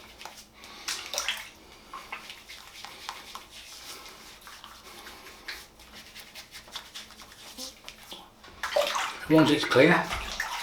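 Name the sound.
water washing off shave lather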